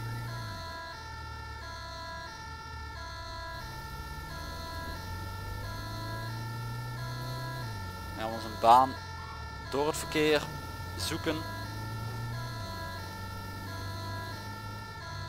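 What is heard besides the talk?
ambulance siren in video game GTA 5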